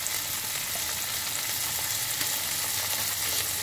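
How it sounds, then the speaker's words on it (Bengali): Chopped ginger, onion and green chilli fry in a pan, a dense, even sizzle close at hand with faint stirring scrapes running throughout and no talking. "এবার একটু এটাকে নাড়বো।"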